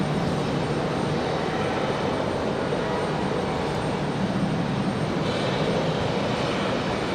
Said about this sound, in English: He is going to go into an unrestricted climb out.